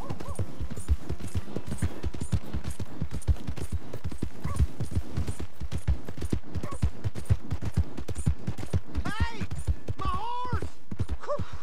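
Horse hooves in Red Dead Redemption 2 clip-clop in a fast steady rhythm close by, with a horse whinnying briefly near the end.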